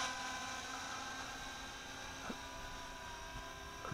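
A Syma X8C quadcopter drone flying over a field, its rotors giving a faint, thin, steady whine at a distance, with slight shifts in pitch as it climbs and moves.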